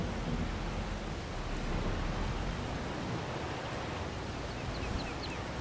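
Steady rain in Farming Simulator 22 with a low rumble of thunder, a dense constant hiss holding at moderate level, no talk.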